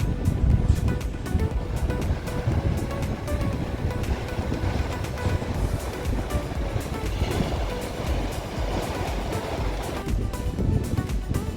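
Surf breaking on a beach on Hatteras Island, a continuous rolling wash of waves with some wind buffeting, steady and fairly loud throughout with no talking.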